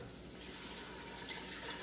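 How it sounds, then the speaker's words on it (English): A quart of water is poured into a hot stock pot over softened mirepoix, giving a steady, even rush and hiss of liquid hitting the hot pan that continues throughout at moderate level. "we'll stir in my quart of water."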